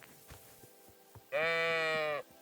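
A single sheep in the medieval game Kingdom Come: Deliverance II lets out one clear, sustained bleat lasting under a second, loud and close after a stretch of quiet background.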